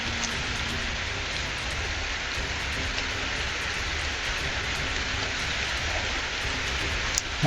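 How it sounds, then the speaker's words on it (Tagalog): Steady rain falls outdoors, a dense, even hiss of drops that stays constant throughout with no voices. "kaya na ulan na."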